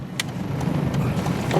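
Engine of a blue 2005 Pontiac Sunfire two-door running smoothly while driving, a steady low hum with road noise heard from inside the car, fairly quiet and even.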